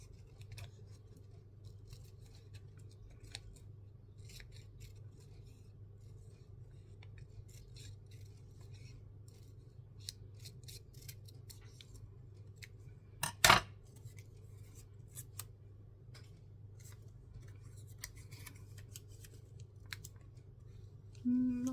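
A single crisp snip of scissors cutting out paper for a Stamperia Wonderland journal, heard close against a quiet room hum, with faint rustling around it and no talking.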